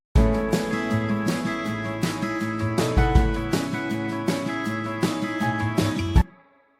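Compressed, reverb-washed electric guitar sits inside a full band mix, with steady strummed chords and drum hits driving a dense, loud texture for about six seconds before stopping abruptly and leaving a short reverb tail.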